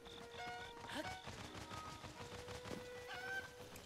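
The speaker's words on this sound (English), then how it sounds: "I have a rooster here." Rooster clucking in The Legend of Zelda: Breath of the Wild, a few short clucks over a busy game soundscape of chimes, tones and soft footsteps, no one speaking.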